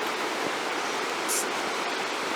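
Steady broadband rush of Spruce Rock Creek flowing over rocks in a wooded autumn gorge near Breakneck Falls, continuous and fairly close, with no voices.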